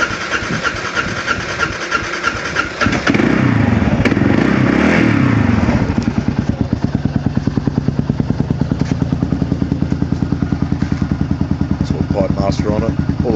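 A 2008 Kawasaki KLR650 single-cylinder motorcycle engine, de-restricted, cranks over, fires up and settles into a steady, rhythmic close idle with a mechanical clatter, while someone talks over it.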